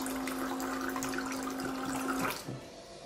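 A Xiaomi 3Life automatic gallon water pump dispenser pours water in a strong, steady rushing stream with a motor hum that cuts off near the end, close and alone.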